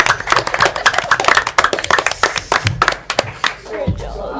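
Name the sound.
applause from the audience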